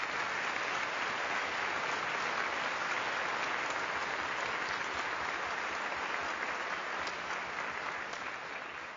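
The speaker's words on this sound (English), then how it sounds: "Give it a round of applause." A sustained round of applause from an audience in a restored state Capitol legislative chamber, dense and even throughout with no break and only a slight fade at the end.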